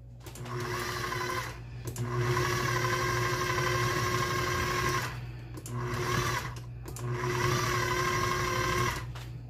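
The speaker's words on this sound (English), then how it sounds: "I'm going to start mixing this a while." An electric mixer whirs through banana bread batter in a home kitchen, a steady mechanical hum broken by two short pauses, close and fairly loud.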